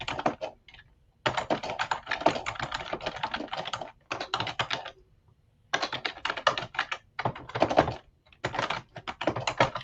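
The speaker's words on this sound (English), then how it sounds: "So as you're typing that" Bursts of rapid typing on a computer keyboard, close and clear, with short pauses between runs of clicking keystrokes.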